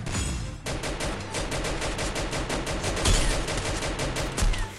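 Rapid, continuous automatic gunfire from a shooting video game, dense and loud, with steady bursts of shots and no speech.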